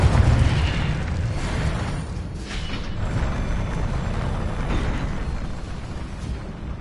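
A Confringo spell blast in the video game Hogwarts Legacy gives off a rumbling, sustained explosive roar. It opens with a heavy boom, then keeps roiling with rough noise through the whole stretch.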